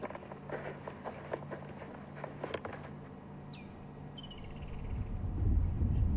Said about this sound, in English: Few insects, but very, very few.